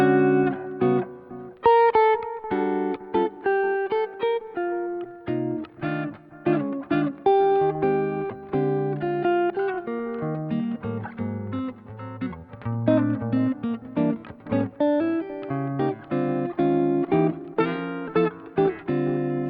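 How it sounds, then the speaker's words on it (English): Clean electric guitar plays a melodic line soaked in delay and reverb, notes echoing and ringing out into a wide, ambient wash. "I'm using the delay pedal to really support the reverb"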